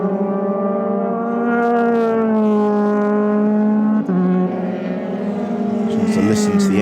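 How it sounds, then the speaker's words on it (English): A Euroformula Open race car at Paul Ricard howls past under braking into a sequence of turns, its loud harmonic engine note holding steady then dropping sharply with a downshift before revving again; a commentator's voice runs underneath. "Just to listen to the engine note of Yanis Vitya as Vitya arrives on the brakes into turns 4, 5 and 6"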